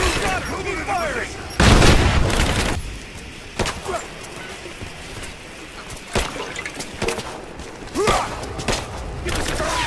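Gunfire in the video game Rise of the Tomb Raider, with a loud close burst followed by scattered sharp shots and booms amid background noise, while voices shout between the shots.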